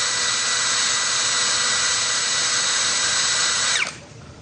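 A Kyoal 16V brushless cordless drill runs at full speed with a loud, steady high-pitched whine. Near the end it spins down sharply, leaving quiet room noise.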